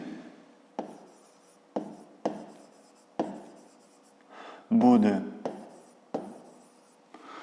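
Pen strokes writing on paper, a series of short scratchy marks at a steady pace, close and fairly quiet, with a brief louder rub or scrape midway.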